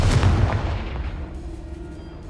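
Bombarda and Confringo spell blasts in Hogwarts Legacy hit with heavy, booming explosions at the start, then trail off into a rumbling, fading tail.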